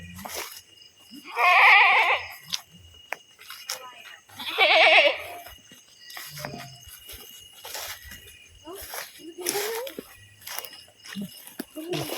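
A goat bleats twice at an abandoned school, loud and close, a few seconds apart, with scattered soft clicks and rustles in between.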